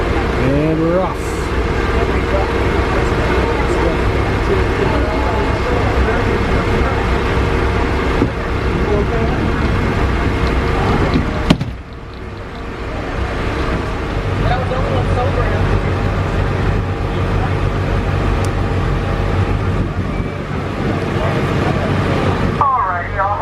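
The motor vessel Manatee, a tour boat, pulls away from the dock with a steady engine rumble and water wash that briefly dips midway, while a guide talks over it throughout.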